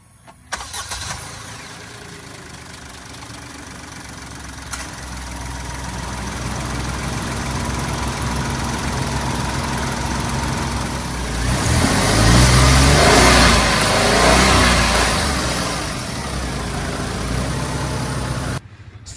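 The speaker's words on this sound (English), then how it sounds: "So this is the engine of the 2021 Maruti Celerio, and this is a 1-liter 3-cylinder engine." A 2021 Maruti Suzuki Celerio's 1-litre three-cylinder K10D engine starts, settles into a close, steady idle, then revs up loudly around the middle before easing back down to idle.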